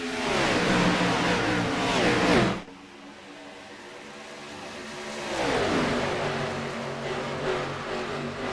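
IRSS race cars roar loudly at a green flag start, a dense engine blast cutting off abruptly before a second pack of engines builds and sweeps up in pitch as cars accelerate past.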